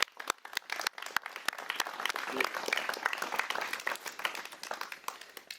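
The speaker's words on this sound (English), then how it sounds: "Let's give them a big round of applause" Wedding guests in a castle applaud the newly married couple, giving a close, lively round of many hands clapping that keeps up at a steady level throughout.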